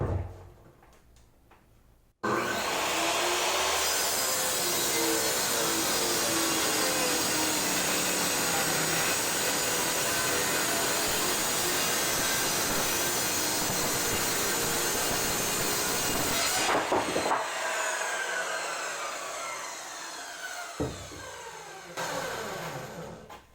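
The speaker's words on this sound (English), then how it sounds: "I'm going to start ripping it up with a circular saw" A circular saw rips through material in one long continuous cut, loud and steady for about fifteen seconds before the blade winds down, with a few short clatters afterward and no talking.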